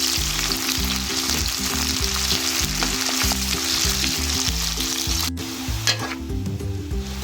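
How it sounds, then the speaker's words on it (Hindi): Onions sizzle and crackle steadily in hot ghee, browning, a close, continuous frying hiss with occasional stirring. "ये प्याज डाल दिए हैं हमने, प्याज ब्राउन करेंगे अच्छी तरह"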